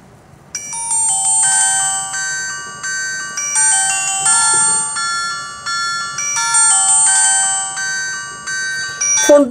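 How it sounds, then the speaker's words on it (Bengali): GDL G405 button phone playing its ringtone, a bright electronic melody of sustained beeping notes repeating in phrases, loud and close, with a faint handling click at the end. "চলুন দেখি যে ফোনটির রিংটোনের দক্ষতা কত ছিল।"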